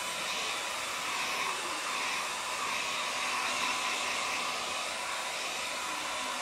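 Hair dryer blows steadily and loudly close by, drying thick, heavy textured paint on a painting, an unbroken airy whir with no speech.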